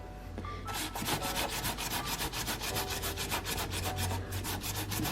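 Grease is scrubbed off brushed stainless steel with a cleaner, a loud close rhythmic rubbing, quick back-and-forth strokes repeating steadily without pause, no talking.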